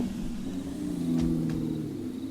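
A video game car engine hums and revs moderately at a steady pitch, with no talking.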